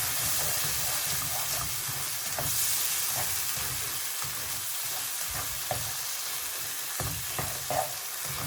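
Paneer karahi with green chili and black pepper is stirred in a pan. It sizzles and fries steadily, with scraping and stirring noises throughout and a few light clinks.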